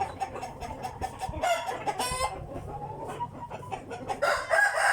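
A fighting rooster of about seventeen to eighteen months crows and clucks close by, repeated loud calls over farmyard background noise.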